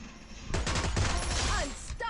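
Rapid gunfire bursts in a PC battle royale game played on an Indonesian server in ranked mode, a dense fusillade that starts suddenly and fills most of the short clip, with faint talk underneath.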